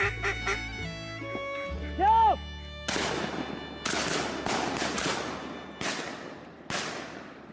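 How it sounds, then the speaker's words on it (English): A few honks and a wavering bird call give way to five loud, sharp hunters' gunshots at wild birds, spaced about a second apart, each trailing off with a long echo. "they will open fire to take down this wild bird"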